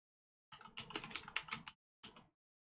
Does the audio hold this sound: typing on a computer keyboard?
yes